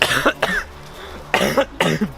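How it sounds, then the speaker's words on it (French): Several harsh coughs in two quick bursts, close and loud, with a short pause between them. "Pourquoi je tousse?"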